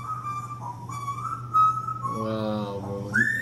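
An African grey parrot whistles a series of clear tones, some held and some sliding, then a quick rising whistle at the end, close and moderately loud over a low steady hum.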